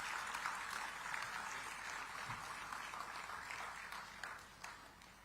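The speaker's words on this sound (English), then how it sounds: "Let's greet him with an energetic round of applause." Fairly faint crowd applause from a conference audience welcoming an MP at a digital technology summit in Visakhapatnam, a steady wash of clapping that thins toward the end.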